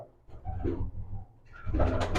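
A winning racing pigeon with 'shah' eyes gives low, throaty coos, a softer rolling phrase followed by a fuller, louder burst near the end, close and alone.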